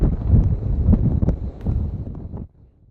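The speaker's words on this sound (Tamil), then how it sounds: "வானிலை ஆய்வு மையம் சொல்லிய அளவை விட அதிகமான காற்று வீசுவதாக" Strong Cyclone Fengal wind at Mamallapuram hits the microphone in loud gusty bursts, a low rough buffeting that drops away near the end.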